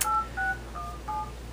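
Telephone keypad dialing tones beep as a cell phone number is entered, four short, clear tones in quick succession, fairly quiet with no talk.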